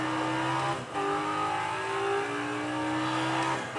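A car engine revs and accelerates in a racing video game played with a Logitech Driving Force GT steering wheel, a sustained rising and shifting engine whine with a brief gear-change dip, no speech.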